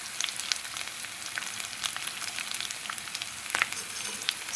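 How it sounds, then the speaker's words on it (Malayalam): Curry leaves, chopped ginger and garlic sauté in hot oil in a pan, giving a continuous crackling sizzle with sharper pops, close and fairly even throughout. "ഒരു 3 തണ്ട് കറിവേപ്പില, ഒരു കഷ്ണം ഇഞ്ചി അരിഞ്ഞത്, വെളുത്തുള്ളി അരിഞ്ഞത് ചേർത്ത് നന്നായി ഒന്ന് വഴറ്റിയെടുക്കാം."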